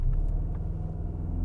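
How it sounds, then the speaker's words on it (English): Hard launch-control acceleration in an Audi RSQ8, heard as a loud, steady low engine and road rumble that fills the cabin throughout, with no talking. "just left foot on the brake, floor the throttle, and launch it"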